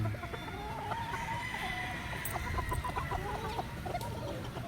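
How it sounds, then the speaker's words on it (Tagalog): A White Kelso gamecock clucks in short repeated calls against a steady farmyard background hum, fairly close and moderately loud, with no talking. "Kagandang manok nito."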